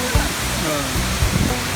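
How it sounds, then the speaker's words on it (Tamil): At the base of Bridal Veil Falls near Hope, British Columbia, Canada, the waterfall roars in a steady, close wash, with faint low voices mixed in. "இதான் அந்த நீர்வீழ்ச்சியுடைய அடிப்பக்கம்."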